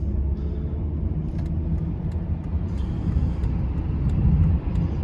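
Volvo V60 2012 with a 2.0 D3 five-cylinder diesel and automatic gearbox accelerating on the road, a steady loud low engine rumble with road noise heard from inside, swelling slightly near the end.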